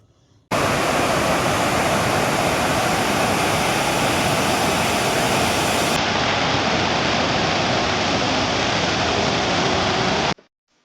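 Rajdari and Devdari waterfalls near Banaras rush in a loud, steady, dense roar of falling water that starts abruptly and continues unbroken at close range before cutting off.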